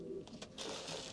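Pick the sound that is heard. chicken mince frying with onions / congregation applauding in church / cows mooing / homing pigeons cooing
homing pigeons cooing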